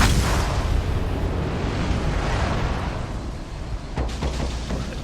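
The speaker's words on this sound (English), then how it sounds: "Got hit with those torpedoes." Torpedo hits exploding against a warship in World of Warships, a loud sustained rumbling roar of blasts and debris that slowly fades, with a few sharper crackling bursts near the end.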